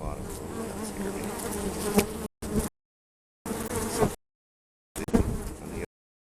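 Dense, steady buzzing of many bees inside an opened beehive, loud and close, broken by several short silent gaps.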